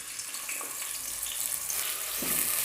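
Onions dropped into about half a cup of hot oil sizzle and fry steadily, a close, continuous hiss with a few louder crackles and stirring clinks.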